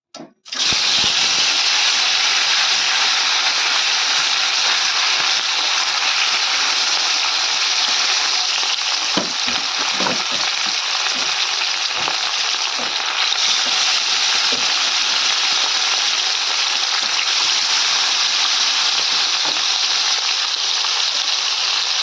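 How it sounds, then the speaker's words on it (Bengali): Fish pieces frying in a kadai of hot oil, a loud, steady broadband sizzle that runs continuously for the whole stretch, with occasional crackles and pops breaking through. "পুরো লাল লাল করে মাছগুলো কিন্তু আমি ভেজে নিয়েছি"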